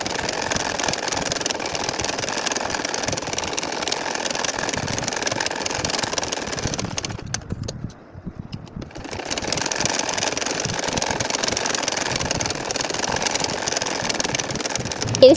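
An ordinary sewing machine stitches a nakshi kantha quilt with a steady close mechanical whir that stops briefly partway through and then starts again.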